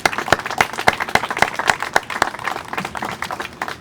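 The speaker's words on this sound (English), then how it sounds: "Please join me in applauding their efforts." An audience claps at a ceremony for the restored Memory Wall of Peace and Love in Winston-Salem, with close, sharp, fairly sparse handclaps in an uneven rhythm that thin out toward the end.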